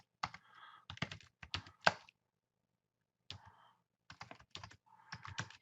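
Bursts of typing on a computer keyboard, quick clusters of close, crisp key clicks separated by short pauses and one longer silent gap midway, in a quiet room.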